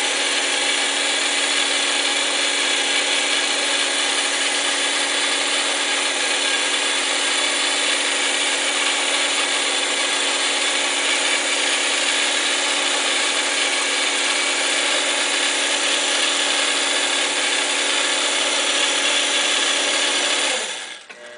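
A sewing machine runs at high speed while stitching quilted feather patterns, giving a loud, continuous, even whir that holds for about twenty seconds before stopping abruptly.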